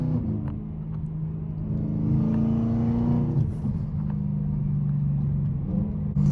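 A straight-piped E92 BMW M3 exhaust with a MagnaFlow axle-back rumbles and revs up into a loud, throaty drone, then settles back to a steady deep burble, close by with no talking.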